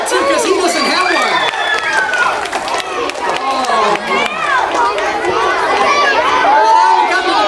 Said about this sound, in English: Let's give a hand for Fred,